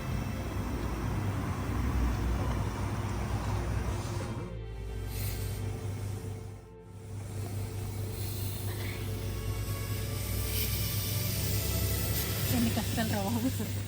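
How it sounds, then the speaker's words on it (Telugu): Air hisses steadily out of a car tyre valve at a card-operated air pump, a continuous broadband rush lasting throughout with two brief dips, while someone talks over it. "మనకి బుస్ అని సౌండ్ వస్తుందంటే కనుక మన కారులోంచి గాలి బయటకు వెళ్ళిపోతున్నట్టు అనమాట"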